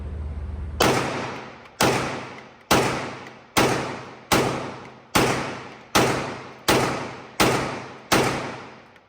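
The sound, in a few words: gunshots from a Staccato XL 2011 pistol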